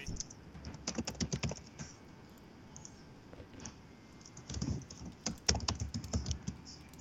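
Fast, steady typing on a computer keyboard sounds up close as dense clattering keystrokes in two busy runs with a lighter stretch between, during a Town of Salem game session.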